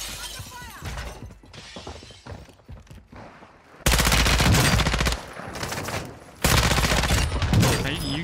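Loud bursts of automatic gunfire and sniper shots in a Warzone match, heavy sustained volleys after a quieter stretch, with players talking over the action.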